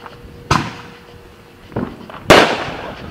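Three sharp fireworks bangs go off at irregular intervals in Oklahoma, each booming briefly and echoing away; the last burst is the loudest.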